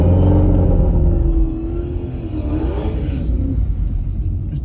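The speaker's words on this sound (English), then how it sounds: "It's time to start your burnout." A 2021 Chevy Camaro LT1 on street tires at a drag strip revs loudly in a burnout, a deep engine rumble with rising and falling revs that eases slightly after a heavy opening.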